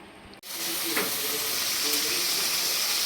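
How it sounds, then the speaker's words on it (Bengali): Potatoes and spring onion stalks fry in hot oil in a home kitchen pan, a loud steady sizzle and hiss that bursts in abruptly and holds for a few seconds with light stirring scrapes. "আলু পেঁয়াজ কলি ভাজছি"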